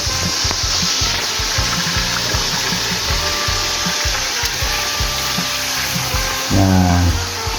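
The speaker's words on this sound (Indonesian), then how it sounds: "ini saya akan goreng sampai kering ya, sedikit agak kering ya" Chicken pieces and potato frying together in a pan for a spicy chicken dish, a loud steady sizzle close up with scraping and clattering as the food is stirred.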